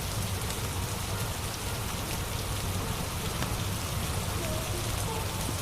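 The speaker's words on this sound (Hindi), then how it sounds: "बाबा, बारिश अभी भी नहीं रुकी।" Rain falls steadily and evenly, a dense continuous patter of drops on surfaces that holds at the same level throughout.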